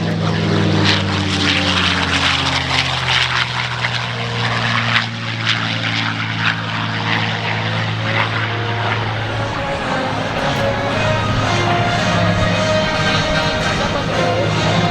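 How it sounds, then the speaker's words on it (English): A P-51 Mustang propeller fighter flies past at an airshow, its loud, droning engine note sliding lower as it passes and then fading into the distance. "From the right, here's Swamp Fox, the P-51 Mustang."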